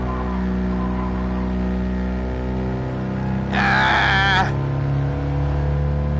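A 16-horsepower two-cylinder car engine in the racing game Gran Turismo Sport drones at a steady buzzing pitch, loud and close, with a brief brighter burst of noise breaking in midway.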